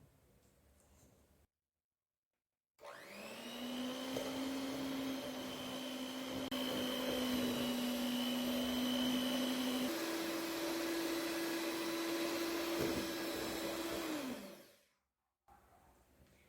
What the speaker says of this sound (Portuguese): Agora nós vamos bater tudo até virar um creme branco.